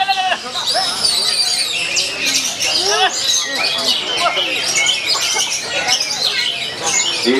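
A kacer, or magpie robin, sings in a busy stream of bright whistles, chirps and quick rising and falling phrases, loud and close, with a sense of voices around it.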